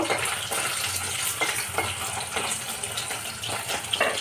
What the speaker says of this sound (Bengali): অল্প একটু করে, কোনো রকম অল্প একটু করে ভেজে নেব